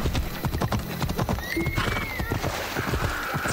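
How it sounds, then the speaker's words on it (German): Horse hooves clip-clop at a brisk, steady pace in the video game Assassin's Creed Odyssey, joined by a rising whinny midway, close and clear over soft background. "Ein Pferd."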